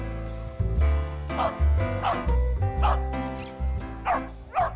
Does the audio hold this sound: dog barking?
yes